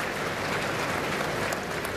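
Applause at the World Hindi Conference inauguration: a large audience claps in a dense, continuous roar, loud and unbroken throughout.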